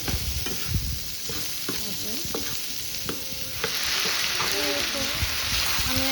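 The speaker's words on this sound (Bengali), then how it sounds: "তো এই যে আমি এখন কর্ন দিয়ে দিলাম সব কিছু এখন ভেজে নিচ্ছি" Corn and other ingredients fry in a pan for a children's tiffin snack, giving a steady close sizzle with scraping stirring strokes that grows denser and louder midway.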